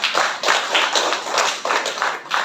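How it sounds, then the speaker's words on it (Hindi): An audience claps for Ganpati at a spiritual gathering, with steady rhythmic applause in repeated bursts, loud and close, with no talk over it. "तो तालियां तो बजाओ गणपति के लिए।"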